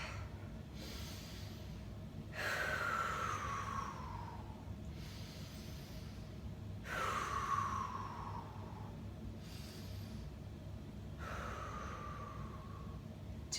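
Deep, slow breaths during a yoga abs session, with long airy exhales rising and falling in a steady cycle about every four to five seconds, close and fairly loud over a low steady background hum.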